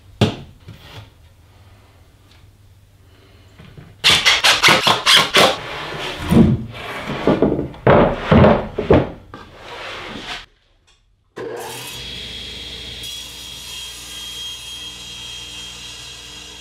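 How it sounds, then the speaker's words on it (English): Wooden board being cut on a table saw miter sled for a spline jig, with a loud rasping saw burst in repeated pulses, a pause, then steady machine whine continuing. "cut almost all the way through, leaving just a little bit"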